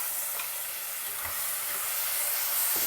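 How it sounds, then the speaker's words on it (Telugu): Ground tomato paste fries in oil while being stirred, a steady, faint hissing sizzle with occasional soft scrapes of the spoon and no voices. "వేసి కలుపుతూ కొద్దిగా నూనె తేలే వరకు, టమాటా పచ్చివాసన పోయే వరకు వేయించుకోవాలి."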